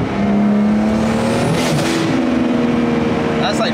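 Engine of a 700HP BMW 335i revving at partial throttle, a loud steady drone with rising harmonic tones as the revs climb, heard close up with talking over it.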